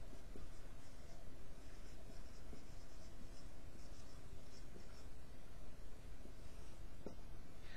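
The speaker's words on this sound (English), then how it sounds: "let me write it up here." Faint, steady scratching of handwriting, soft and close, with no voices heard.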